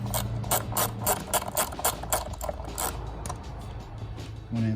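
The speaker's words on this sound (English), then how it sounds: "So we just getting these screws started." A ratchet wrench clicks rapidly in bursts while screws are started during a BMW engine repair for a random misfire, close and crisp, with brief pauses between runs.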